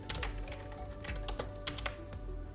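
Typing on a computer keyboard while writing code for a TFT LCD display library, a quick irregular run of close, crisp key clicks with uneven spacing and no voices.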